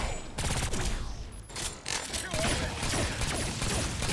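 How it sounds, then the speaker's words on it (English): An airstrike called in during Agents of Mayhem, heard as a dense, continuous barrage of rapid gunfire-like blasts and crackling impacts, loud and busy throughout with a brief lull in the middle. "And there's the airstrike. It's like an artillery strike."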